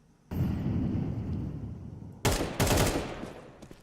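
Gunfire in a Counter-Strike match, a sustained rumbling burst followed by two sharp, loud close shots near the end, with no talk over them.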